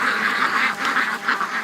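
A flock of ducks near a creek quacks in quick, overlapping nasal calls, close and fairly loud, in short rhythmic bursts.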